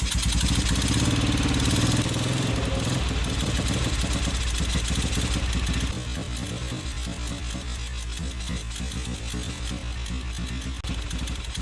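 A Royal Enfield Bullet 350 single-cylinder engine, suffering overheating and a compression leak, idles close by with a steady, thumping, loud mechanical hum that drops slightly in level midway.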